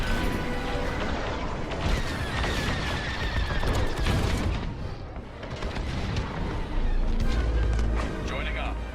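A core detonation in the space-combat game Star Wars: Squadrons, a sustained roaring, crashing blast lasting several seconds with heavy low rumble, beneath game speech and battle noise.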